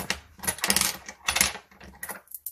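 Loose coins dropped into a paper budget envelope, several quick clinking bursts in two or three clusters with short pauses between, close and fairly soft, no talking over them.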